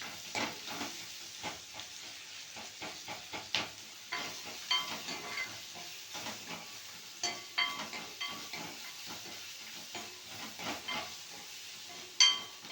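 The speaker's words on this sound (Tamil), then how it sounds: "பச்சை வாடை போகிற வரைக்கும் வதக்கணும்" Ginger garlic paste sautés in a pan for chicken liver gravy, giving a continuous hissing sizzle broken by repeated stirring scrapes and clinks.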